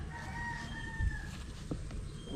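A rooster crows among a family's backyard chickens, its drawn-out call rising and falling over a steady outdoor background hum, with a few brief thumps.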